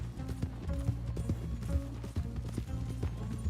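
A Moonshiner horse from the add-on content in Red Dead Online trots, hooves clip-clopping in a steady, close rhythm over a continuous low drone of game ambience.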